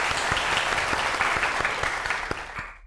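A small crowd on a Vietnamese dating show claps in a brief, dense burst of applause that fades out after a few seconds.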